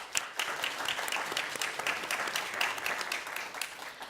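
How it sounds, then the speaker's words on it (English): An audience breaks into applause at a live stand-up comedy show about San Francisco city politics, a dense, steady clatter of clapping hands that swells briefly and then holds for a few seconds with no talking over it. "Applaud if you or someone you know has had their car broken into."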